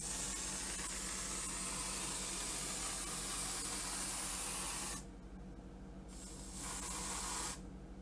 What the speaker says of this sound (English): Now I'm going to put some whipped topping up there, on there. I'm going to spray some